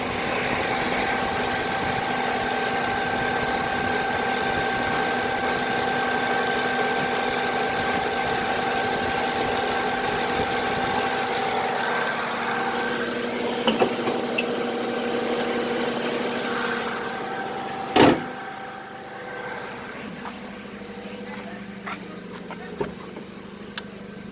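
A 2008 Honda Civic FD 1.8S with a manual gearbox idles steadily with a moderate, even hum; the engine tone fades partway through and a few brief knocks and clicks follow.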